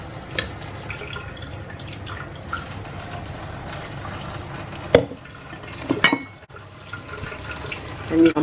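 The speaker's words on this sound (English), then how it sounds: "But first, I'm going to add a little bit of water." Water is poured into a pan holding chicken for a home-cooked Sunday dinner, with faint trickling and a few louder splashes and clinks in a quiet kitchen.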